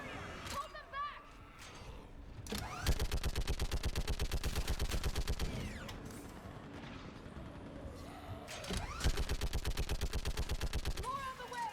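Mounted gun in Mass Effect 3 hammers out long, rapid bursts against enemy targets on a bridge, loud and rhythmic, with gaps between volleys and game voices talking over the action.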